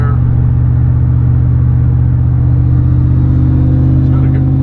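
A 2000 Ford F-150 SVT Lightning pickup's engine roars steadily and loudly up close, a deep continuous rumble with a throaty pulsing rhythm that holds strong throughout.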